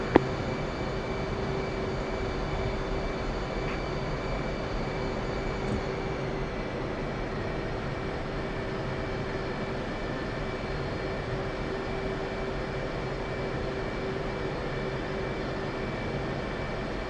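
F/A-18C jet taxiing in the DCS flight simulator game, a steady even engine whine and hum from the cockpit, constant and unbroken throughout.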